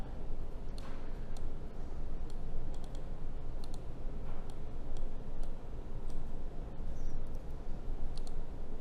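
Sharp, faint computer mouse clicks come in scattered single and double taps at an irregular pace as a user works in Revit, over a quiet room hum with no talking.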